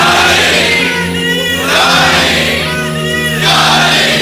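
A large audience of young men chants slogans in loud, rhythmic unison at a religious gathering, with three swelling waves of massed voices.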